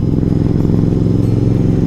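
Motorcycle engine hums steadily and close on a snowy mountain road in Spiti, a constant low throbbing drone with rapid regular pulses and no pauses.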